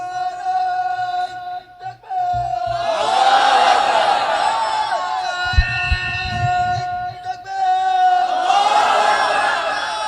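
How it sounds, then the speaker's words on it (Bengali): A large crowd at an outdoor religious gathering bellows the takbir in unison, loud sustained chant swells rising and falling in waves, with a leader's amplified voice carrying over the mass of voices. "জোরে বলো। মার তাকবীর দেখি।"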